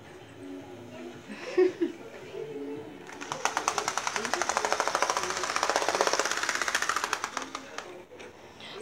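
A Union Pacific toy train locomotive on a train set starts up loudly about a third of the way in, a rapid buzzing, rattling motor drone that runs steadily for several seconds before cutting off, with faint voices and background noise before it.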